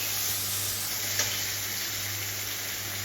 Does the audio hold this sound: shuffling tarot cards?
no